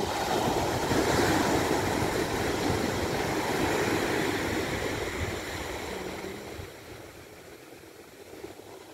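Sea waves on a beach at One Mile Beach, Forster, New South Wales, a steady broad wash of surf that fades somewhat toward the end, with no talking.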